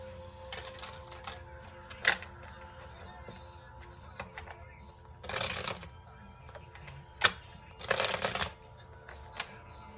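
A deck of cards being shuffled in several quick riffling bursts, fairly close, with quieter handling noises between them.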